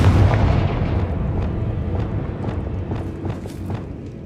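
Spell explosion from the Confringo curse in the video game Hogwarts Legacy, a loud rumbling blast with a dense low boom that slowly decays into a crackling, echoing tail with scattered small pops.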